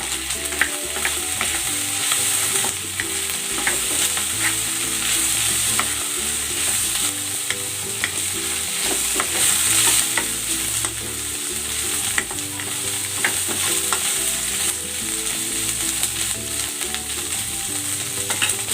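Fresh alamang shrimp paste frying in a pan for Bicol Express, a steady loud sizzle with stirring scrapes throughout and no talk.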